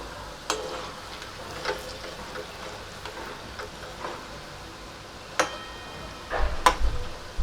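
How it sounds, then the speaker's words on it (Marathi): Moong dal vadas deep-frying in hot oil until golden make a soft, continuous bubbling sizzle with scattered sharp pops and clicks, a few louder bursts near the end, and no voices. "छान सोनेरी रंगावर आपल्याला हे सगळे वडे तळून घ्यायचे"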